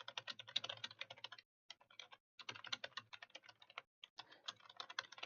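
Rapid, close clicking on a computer keyboard in steady bursts of typing, broken by a couple of short pauses, quiet and with no voices.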